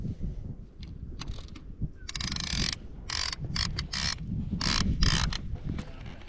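The ratchet of a lever-drag fishing reel clicks as a catfish pulls line while fishing for flathead catfish. It comes in uneven bursts of rapid clicking over low outdoor rumble and wind.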